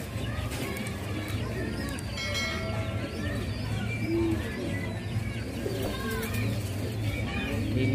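Pigeons coo steadily at close range, low rolling calls repeating throughout, with faint chirps and people talking in the background around a pigeon feeding tray.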